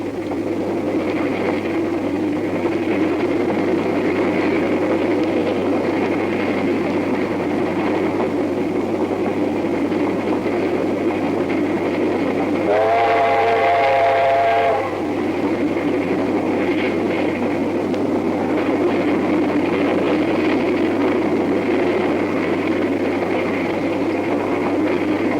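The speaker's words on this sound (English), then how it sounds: "As the driver eases the heavy train through the points and out onto the main line" Low, steady rumble of a heavy oil-burning steam train rolling through points onto the main line, with a brief tonal whine rising midway through; continuous and fairly loud, no voices.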